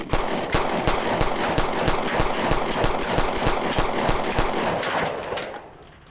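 Rapid bursts of gunfire from a Springfield XDM 10mm pistol crack in quick succession, loud and close, a dense run of sharp shots that fades out at the end.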